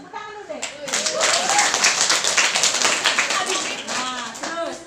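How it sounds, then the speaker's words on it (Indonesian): Schoolchildren at a health outreach session clap their hands together, a brisk burst of many hands close by, mixed with excited children's voices throughout. "tepuk tangan dulu deh"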